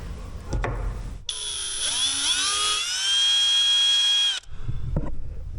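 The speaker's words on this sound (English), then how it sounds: "Now we want to actually drill a little hole right there. So I'm gonna start with a 5/64 drill bit" A small 5/64 bit drilling a hole into plastic on a Chevrolet, a high, whining power-drill spin that rises in pitch as it speeds up, runs for about three seconds, then stops, with handling noises before and after.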